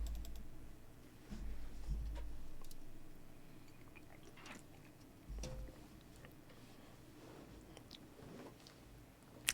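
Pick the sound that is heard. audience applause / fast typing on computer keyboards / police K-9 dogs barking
fast typing on computer keyboards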